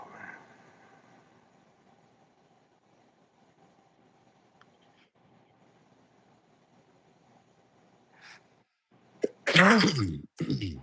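After a long stretch of faint background hum, one loud, sudden sneeze bursts out near the end.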